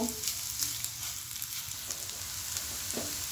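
Chopped onions frying in oil in a pan until browned, a steady close sizzle and crackle with faint ticks and a low background hum, no voices present.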